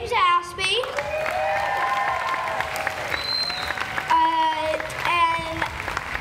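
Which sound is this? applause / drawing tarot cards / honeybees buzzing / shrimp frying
applause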